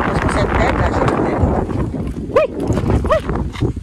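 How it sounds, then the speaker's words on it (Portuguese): Strong wind outdoors on a farm buffets the microphone in loud, rough gusts that ease slightly midway, with a couple of brief high whining tones rising over the roar. "O vento levando meu guarda-chuva."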